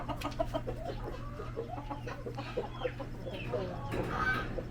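Rhode Island Red chickens cluck in a farmyard with soft, repeated close clucks over a steady low hum, and a person speaks briefly near the end.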